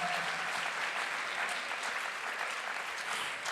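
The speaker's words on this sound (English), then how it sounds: "Maybe they need a little applause for the judges." An audience at a youth poetry slam applauds the judges with steady, sustained clapping, a dense wash of many hands that keeps going evenly throughout.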